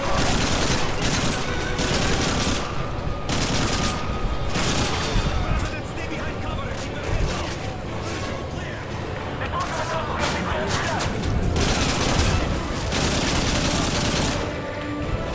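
Gunfire from the Call of Duty Modern Warfare 3 video game, with steady dense shooting, booms and mechanical weapon clatter filling the whole stretch at a loud, constant level.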